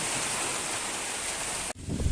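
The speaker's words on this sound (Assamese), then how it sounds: "বহুত ডাঙৰ বৰষুণ আহিছে বতাহৰ লগত বৰষুণ" Dense, steady hiss of heavy rain blown by wind, loud and close, cutting off abruptly near the end.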